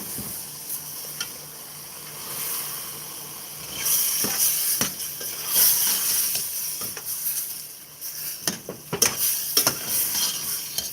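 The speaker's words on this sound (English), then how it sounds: "You can hear that frying up really nicely." Steady sizzling from onions frying in a hot pan, with scraping stirs and clinks that grow busier toward the end.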